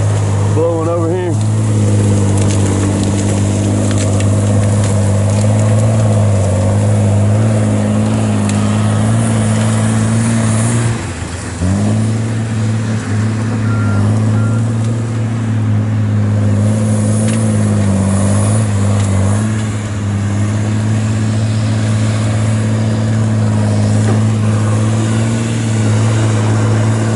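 A Tigercat 630E or 635D forestry skidder's engine runs at steady revs with a strong, continuous low drone. It is loud and close, and the pitch barely changes through the run apart from one brief dip.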